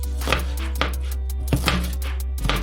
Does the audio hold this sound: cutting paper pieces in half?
no